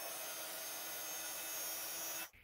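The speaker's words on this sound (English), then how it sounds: "I'm just going to heat emboss those in white onto this black cardstock." Steady blowing whir of a heat tool melting white embossing powder onto black cardstock, loud and close, running continuously before cutting off abruptly at the end.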